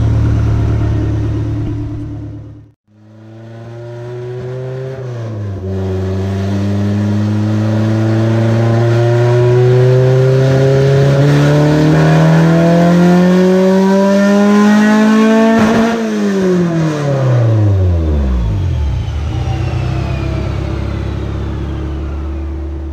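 A car engine on E85 fuel with RC 750 injectors and an eBay header revs hard on a dyno, a steady loud roar that dips to near silence, then climbs for several seconds in rising pitch and falls away with a descending whine, with no voices.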